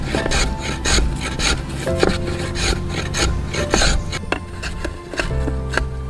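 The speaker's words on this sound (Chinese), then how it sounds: "发哥不停调整木刨的刀刃位置，使其更好将刀鞘表面打磨得平整光滑一些" A wood plane scrapes again and again across a wooden knife sheath, smoothing its surface with short, dry rasping strokes in an uneven rhythm, close and fairly quiet, with a low hum underneath.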